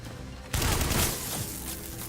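Gunfire in The Division during a fight with a boss on a carrier mission, a sudden loud burst of shots that erupts after a quieter stretch and sustains as a dense, roaring volley.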